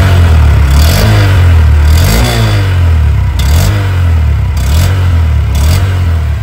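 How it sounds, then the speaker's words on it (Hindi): A 2023 Honda SP125 OBD-2 BS6 motorcycle with a new silencer revs its exhaust close by: a steady low drone rises and falls through several throttle blips, rasping loudly, with no one talking. "सबसे पहले मैं आपको इसके एग्जॉस्ट के साउंड को सुना"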